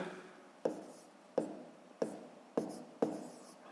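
A pen taps and scratches numbers onto paper, five short distinct strokes evenly spaced and close, with a quiet room behind and no talking.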